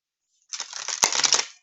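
A deck of tarot cards is shuffled in one brief riffle, a quick burst of crisp flapping and ticking close up that ends in a sharp snap.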